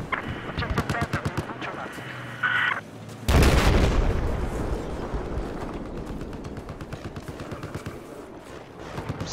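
Video game Battlefield 4 gunfire rattles in quick repeated shots, with one heavy blast partway through followed by sustained automatic fire, while a player talks over the action.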